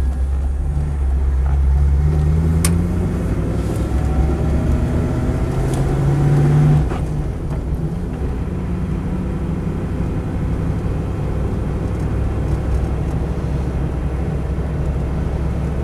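A Land Rover 90 V8 Station Wagon on the move: its engine makes a steady, close drone throughout, swelling slightly for a couple of seconds partway through before settling back to an even cruising hum.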